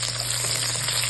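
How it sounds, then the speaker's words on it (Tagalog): Garlic sizzles steadily in a hot pan with oil, cooking toward brown as the first step of a Filipino ginisang ampalaya (sautéed bitter melon). The frying hiss is constant and close, with no voices. "Lutuin po natin ang bawang until maging brown siya."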